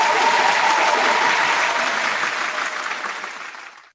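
Audience applause, a loud, dense burst of clapping that holds steady and then tapers off, fading out toward the end.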